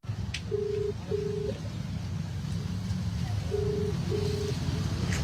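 Phone dialing tones sound as a few short evenly spaced beeps in two pairs, faint beneath loud traffic rumble and street noise, with voices in the background.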